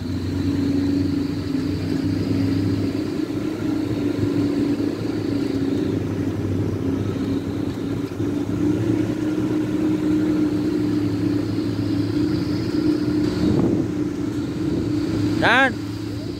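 A car engine drones steadily in first gear while climbing a steep mountain road near Cipasang, Cibugel, loud and continuous throughout, with a sharp rising whine near the end.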